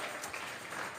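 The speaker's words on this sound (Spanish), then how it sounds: "Vamos a regalarle ofrenda de palmas al Dios de la gloria." Church congregation at a Sunday service clapping together, a dense, fairly quiet patter of many hands that runs evenly throughout.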